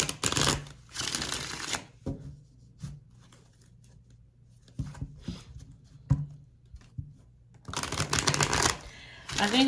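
Tarot cards are shuffled up close in two brisk riffling bursts at the start and end, with scattered soft card taps and handling sounds in the quieter stretch between.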